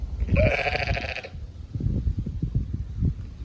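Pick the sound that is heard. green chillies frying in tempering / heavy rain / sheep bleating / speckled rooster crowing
sheep bleating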